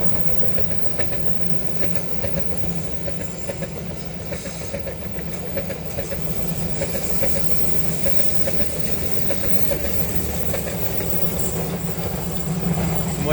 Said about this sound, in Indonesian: Selamat jalan dan selamat sampai tujuan kereta api Rangga Jati dari stasiun Cirebon tujuan akhir stasiun Jember